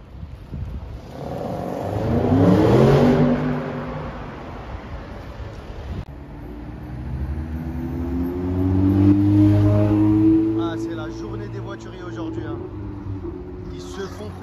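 An older-generation Porsche 911 Turbo S sports car revs and accelerates on a Paris street, its engine note rising twice in strong sweeps while people talk over it.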